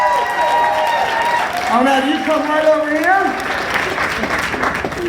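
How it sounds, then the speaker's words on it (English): Audience applause at a puppet slam, a steady wash of clapping and cheers running under someone talking throughout. "Give him a big round of applause."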